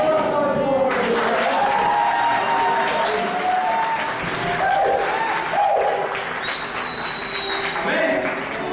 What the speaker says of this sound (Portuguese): Então, uma salva de palmas para Jesus.